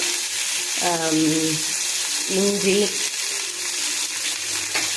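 Chow chow peels sizzle and fry in a pan with a steady hiss throughout, as two brief tonal clinks of a utensil against the pan ring out.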